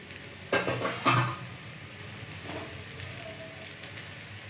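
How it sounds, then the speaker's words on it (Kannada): Garlic paste hitting hot oil in a pan while cooking aloo paratha filling, a few quick sizzling bursts and stirring scrapes early on, then a low soft fry settling underneath, fairly quiet and close. "ಒಂದು ಸ್ವಲ್ಪ ಎಣ್ಣೆ ಕಾದ್ಮೇಲೆ ಬೆಳ್ಳುಳ್ಳಿ ಪೇಸ್ಟು"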